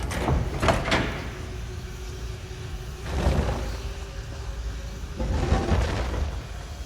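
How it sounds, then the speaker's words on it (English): A heavy stone door in The Elder Scrolls Online grinds open in deep rumbling bursts, with a few low scraping thuds spread across several seconds and no voices. "The door is open."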